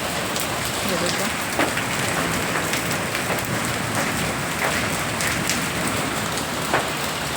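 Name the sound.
hailstones falling on tin roof over cow shed and garden beds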